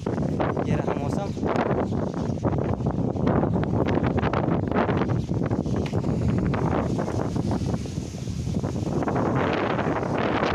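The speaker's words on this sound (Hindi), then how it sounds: "यहाँ पर हवा चल रही है बहुत तेज" Strong wind blows outdoors, buffeting the microphone with loud, constant rumbling gusts that continue throughout with no break.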